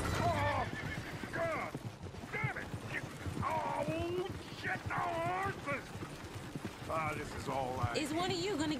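Horses in Red Dead Redemption 2 neigh and whinny repeatedly over a clip-clop of hooves, with people talking at the same time, the calls rising and falling as several loud whinnies cut through.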